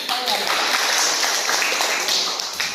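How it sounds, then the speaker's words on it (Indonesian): A classroom of students claps together during a school lesson, a dense, steady patter of hands lasting the whole short stretch with no clear break. "Tepuk tangan lagi"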